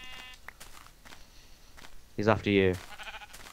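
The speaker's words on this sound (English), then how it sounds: "I can hear is sheep screaming now" Sheep bleating in the Minecraft video game: a short burst of loud, wavering bleats near the middle, heard over men chatting.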